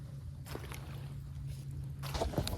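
A paddle dips and pulls through still water in a cypress swamp, giving two soft splashing strokes a second or so apart over a quiet low background hum, with no talking.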